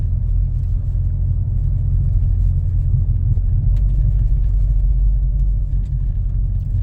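A small sedan rolls along a dirt road, its interior filled with a loud, steady low rumble of engine and tires, with occasional faint rattles and knocks over the continuous drone and no voices.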